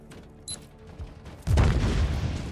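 Gunfire and blasts in the action game Warhammer 40,000: Inquisitor Martyr: a few scattered thuds, then a loud burst of booming, crackling fire that keeps roaring to the end.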